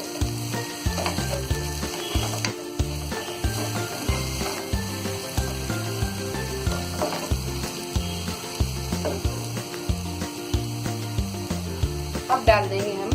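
Fenugreek leaves with salt sizzle in a hot pan while being stirred, giving a continuous crackling fry punctuated by rhythmic spoon scrapes and clinks throughout, close and fairly loud with no talk.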